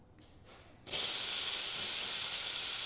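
Steam wand of a Lelit Mara X espresso machine opens after a few faint clicks and then blasts a loud, steady, bright hiss that runs on unbroken to the end.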